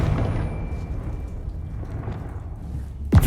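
The Confringo fire spell goes off in Hogwarts Legacy with a rumbling, booming blast that fades into a low sustained roar, followed by a sharp impact crack near the end; loud and close, with no voices.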